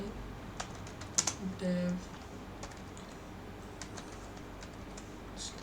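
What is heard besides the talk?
typing on a computer keyboard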